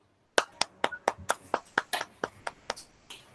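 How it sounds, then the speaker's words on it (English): Students clapping during an online class, a run of about a dozen crisp, evenly spaced claps picked up close by a single microphone, with no voices. "Everyone clap for yourself."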